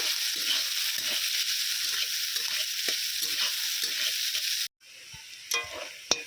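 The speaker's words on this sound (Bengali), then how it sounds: "লাল লাল করে ভেজে নেব" Steady close sizzle of onions browning in a pan for a Bengali red chicken curry, with light stirring scrapes, then a brief drop and a few sharper clinks as more ingredients go in.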